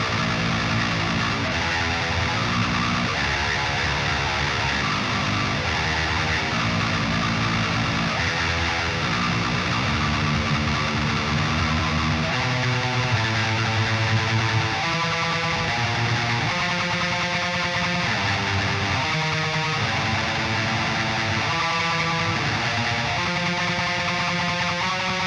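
A heavily distorted metal guitar riff plays continuously at steady volume, dense and sustained with shifting repeated figures and snaking note changes, no voices.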